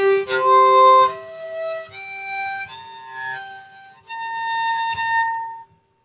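A bazantar, a sympathetically strung double bass, rings out a few sustained bowed or plucked notes tuned to an interval built on the prime 7, each tone holding clearly and alone before the last one ends abruptly.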